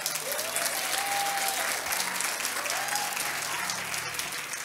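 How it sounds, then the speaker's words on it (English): Audience applause fills a business school graduation ceremony, a steady, dense wash of hand clapping sustained at even loudness throughout, with faint crowd murmur and a brief tonal note drifting beneath. "give him a hand clap."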